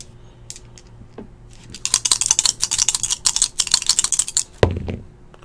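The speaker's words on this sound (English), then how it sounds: "I gotta roll dice." Several dice rattle and clatter in a quick burst of sharp clicks, rolled during a football trading card box break, with a single heavier knock near the end.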